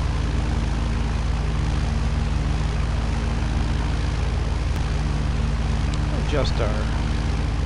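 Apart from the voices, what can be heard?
Zodiac 601 light airplane engine at reduced throttle on approach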